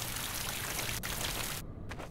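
Shower water running in the Vermination video game, a steady, close hiss of spray that stops abruptly near the end.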